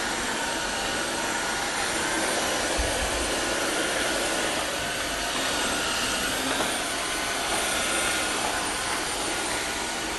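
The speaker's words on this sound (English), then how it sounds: "This vacuum cleaner can only be used on hard surfaces, so do not use this on carpets." A Dreame M12 wet and dry vacuum cleaner runs on a hard floor with a steady, loud, even whirring hiss that continues unbroken, with no voices.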